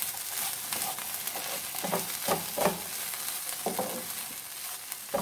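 Paratha stuffing fries and is stirred in a pan: a steady close sizzle with repeated scraping spoon strokes at an uneven rhythm, no voices.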